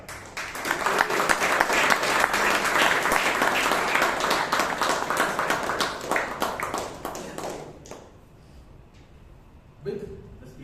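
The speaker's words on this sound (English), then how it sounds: "please, with a thundering round of applause, welcome Toastmaster" A Toastmasters meeting audience in Bangalore breaks into a thick, sustained round of applause welcoming a speaker. The clapping fades out around eight seconds, leaving quiet room noise and a brief stir.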